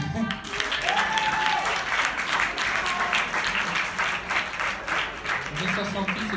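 An audience at a live performance during an idea-night event at a French cultural institute breaks into sustained applause, a dense wash of clapping mixed with voices.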